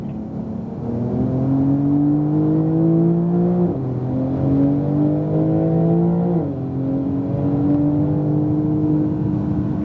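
A 2018 Porsche 911 Turbo S drives hard on a race track, its engine droning loud and close as it pulls up through the revs, easing off twice under braking and then climbing again.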